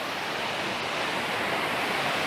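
Moving water rushes in a dense, constant broadband roar with no clear breaks, steady and fairly loud, with no speech.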